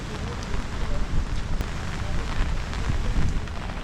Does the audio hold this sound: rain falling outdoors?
yes